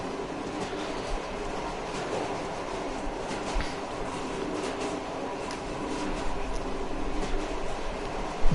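Train rolling along in the video game Metro Exodus: a steady, dense rumble with faint rhythmic clatter of wheels over rails, continuous and fairly loud throughout.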